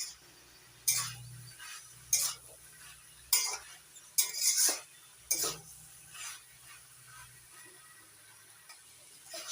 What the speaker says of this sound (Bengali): এবার নাড়াচাড়া করে ভালো করে একটু ঘাটা ঘাটা করে দেবো।